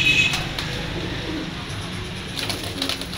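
Pigeons kept by a hobbyist in Faisalabad coo softly and repeatedly close by, low murmuring calls over a faint background with a few higher chirps.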